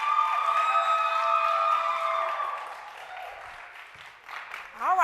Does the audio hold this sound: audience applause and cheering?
yes